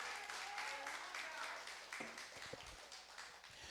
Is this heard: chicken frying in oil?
no